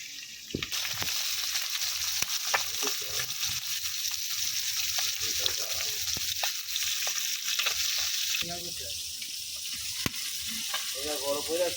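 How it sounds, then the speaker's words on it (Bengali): Tengra fish sizzling loudly in hot oil as they are turned in the pan, with a constant dense crackle and scattered scrapes and taps of a utensil. "এই যে মাছগুলো উল্টায় পাল্টায় সুন্দর করে লাল লাল করে ভাজা নিচ্ছি।"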